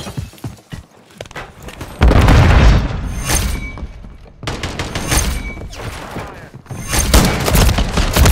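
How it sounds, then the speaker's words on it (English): A grenade detonating in Call of Duty Modern Warfare 3 multiplayer on the Skidrow map: heavy booming blasts with long rumbling tails, mixed with bursts of gunfire and loud, close battle noise. "Throwing grenade!"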